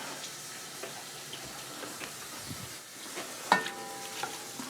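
A spoon stirs carrots, onions and celery around in a soup pot, making soft, quiet scraping and a low simmering sizzle, with one brighter clink near the end and no talking.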